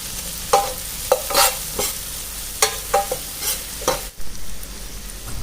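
Onions and capsicum sizzle golden in a hot pan for pav bhaji while a utensil stirs and scrapes in irregular bursts, loud and close, with no voices.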